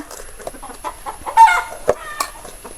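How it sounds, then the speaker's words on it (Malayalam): Chickens cluck and squawk close by in short, irregular bursts, with several birds calling over one another. "അരി കിട്ടാൻ വേണ്ടിയിട്ടാണ് കൊക്കറക്കൊക്കോ പറയുന്നത് കണ്ടോ"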